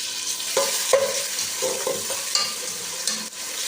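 Onions turning golden fry in a pan for achari aloo, a continuous sizzle broken by repeated scraping stirs of a spoon, close and fairly loud, with no talking.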